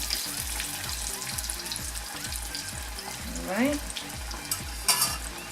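Fish tofu fries in a hot pan of oil with a steady, close sizzle and rhythmic stirring scrapes, while someone briefly speaks over it.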